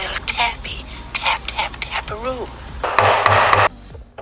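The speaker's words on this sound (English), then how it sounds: "Just gonna give this a tap with the regular hammer." A regular hammer taps on a part of a Nissan CD009 transmission, giving a few sharp metallic knocks near the mic mixed with clanks and handling noise.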